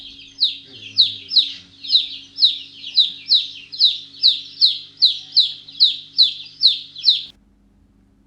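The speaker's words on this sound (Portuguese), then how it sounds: "Chick, pintinho." A chick peeps in a steady series of about fifteen high, clear chirps, evenly spaced and close, then falls silent near the end.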